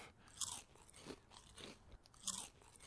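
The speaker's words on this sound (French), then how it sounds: "On mange les baies qui sont dans un sac, c'est bien." Berries eaten from a bag in the video game Cowboy Life Simulator, heard as three sharp crunching bites spaced about a second apart, with softer chewing and rustling between them and no talk.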